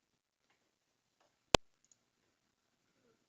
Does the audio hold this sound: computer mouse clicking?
yes